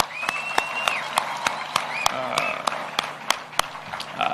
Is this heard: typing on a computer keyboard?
no